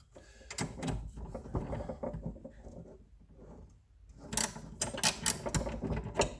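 Skate blade bolts tightened with a torque tool, a run of quiet metallic clicks and rattling handling noises that fade midway, then resume with sharper, denser clicks.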